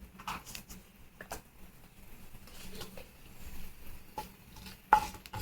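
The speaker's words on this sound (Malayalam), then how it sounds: "അതിലേക്ക് നമ്മൾ ആദ്യം തന്നെ കുറച്ച് കടുക് ചേർത്ത് കൊടുക്കുകയാണ്. എന്നിട്ട് ചെറുതായിട്ടൊന്ന് നമ്മൾ ഇളക്കി കൊടുക്കുക." Mustard seeds crackle faintly in hot coconut oil for a Kerala-style okra curry, with soft intermittent pops and light stirring taps over a quiet background.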